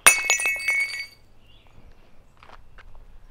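A wine glass clinks at an abandoned resort: one bright, ringing chime right at the start that decays over about a second, followed by faint shuffling footsteps.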